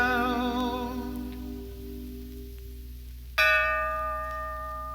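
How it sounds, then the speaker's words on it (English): A bell rings with a sustained, shimmering tone that slowly fades, then a second clear strike rings out and lingers. "ring the old bell and he'll move about smoothly and easily till the sound dies out"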